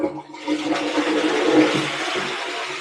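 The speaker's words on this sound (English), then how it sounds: "So this has got an awesome flush." An old toilet flushing system in a house under renovation gives a loud, sustained rushing gush of water that continues steadily throughout, with no talking.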